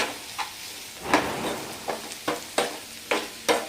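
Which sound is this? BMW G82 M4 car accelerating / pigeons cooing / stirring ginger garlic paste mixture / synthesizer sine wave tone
stirring ginger garlic paste mixture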